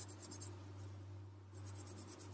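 A pencil scratches across paper in short rhythmic strokes, pauses briefly in the middle, then resumes with more quick scribbling. The strokes are close and faint, and no one speaks.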